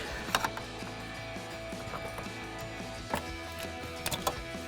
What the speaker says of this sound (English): Now I'll take my pry tool, I'll just get underneath. All these just have little plastic clips. We'll just pry them out of the way.